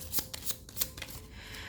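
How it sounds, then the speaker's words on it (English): Tarot cards are shuffled close by in a quick run of soft, papery riffles and flicks, with no talking over them. "I'm gonna just shuffle these cards like off the camera."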